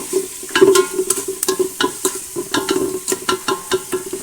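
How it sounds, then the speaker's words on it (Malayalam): Garlic and shallots frying in a pan under steady, rapid stirring, a rhythmic run of loud scraping strokes over a constant sizzle, close up and with no voices. "വെളുത്തുള്ളി ചെറിയ ഉള്ളി ഇതെല്ലാം ചേർക്കുന്നുണ്ട് എന്നിട്ട് നല്ലതുപോലെ നമ്മൾ ഒന്ന് ഇളക്കി കൊടുക്കണം"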